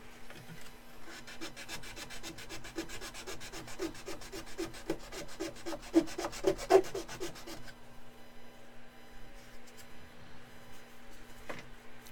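A hand file rasps back and forth in a quick, steady rhythm of short strokes, fairly close and faint, then stops, leaving a low hum and scattered faint clicks.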